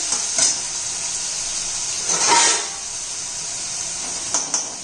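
Tomato and onion with salt cooking in a pan for a ridged gourd (dodka) bhaji, a steady loud sizzle and hiss with a few brief stirring scrapes, no talk.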